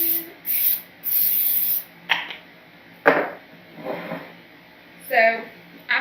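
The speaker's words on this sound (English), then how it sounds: "you do want to make sure that you spray your pan." Several short hissing bursts of cooking spray hit a pan before cooking potatoes and sausage, with a few quieter scraping sounds between them.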